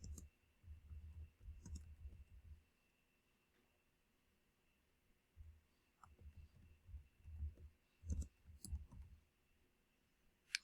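Quiet, close clicking and tapping on a computer keyboard in bursts with a pause in the middle while text is edited, over a faint steady hum.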